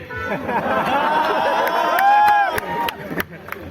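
Crowd at a meetup in Delhi, a loud swell of cheering and excited voices with whistles and shouts building over a few seconds, then breaking into scattered noise.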